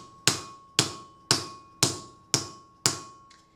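A dead blow hammer flattens a patterned steel plate on an anvil, giving six sharp, evenly spaced thuds with a slight ring, close and loud with no other sound.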